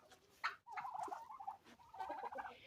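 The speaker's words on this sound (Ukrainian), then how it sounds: "О, п'ять індичок і чотири індики." Several turkeys, five hens and four toms, gobble and chatter close by in quick overlapping bursts, a busy flock sound with brief pauses between calls.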